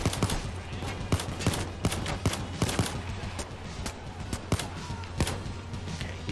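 Scattered gunfire in Payday 2 during a co-op heist, sharp shots cracking out irregularly, some close and some farther off, over a steady low background rumble, with no talk.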